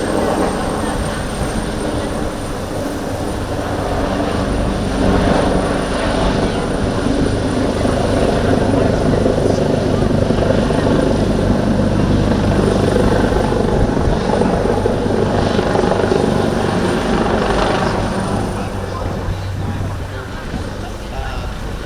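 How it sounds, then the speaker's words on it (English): An AW139 medium-sized utility helicopter flies at the Malta International Airshow, its steady rotor and turbine roar loud and continuous throughout, swelling slightly as it passes, with faint crowd voices beneath. "The 139 is a medium-sized utility helicopter."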